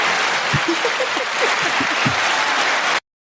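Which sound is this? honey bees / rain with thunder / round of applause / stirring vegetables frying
round of applause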